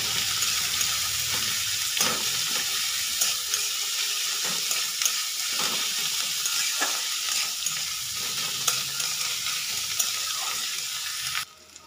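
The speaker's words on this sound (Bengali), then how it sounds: "এবার সবগুলোকে একটু ভালো করে ভেজে নেব।" Chopped onions, green chillies and curry leaves fry in a pan for dosa made from leftover puffed rice, giving a steady loud sizzle with scattered stirring scrapes that runs almost the whole time before cutting off near the end.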